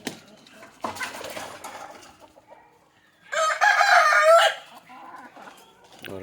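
A country-breed rooster crows loudly and nearby in one long call, with chickens clucking before it and scattered quieter sounds around it, as the coop is opened in the morning.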